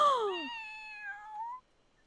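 A kitten in a cats-and-dogs video game gives one clear, close meow that slides downward and trails off, alone with no talk.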